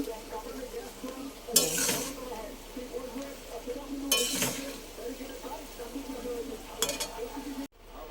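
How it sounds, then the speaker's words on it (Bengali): Vegetables stir-fried in a pan under a continuous gentle sizzle, with three bursts of louder scraping and frying as they are tossed at intervals, then an abrupt cut to silence near the end. "তো এবার ভেজিটেবলগুলো আমি একটু কষে নেব"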